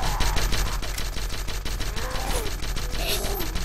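Dense, rapid gunfire in a video game, a steady rattle of repeated shots throughout at moderate loudness, mixed with other game sounds.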